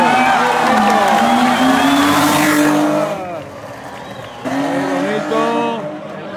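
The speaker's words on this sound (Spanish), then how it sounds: "Bonito el paso de este BMW de Avisenar" A BMW rally car from Comunidad Racing passes along a rally stage, its engine rising and falling in pitch as it goes by, with a second loud surge of revs later, under a talking voice.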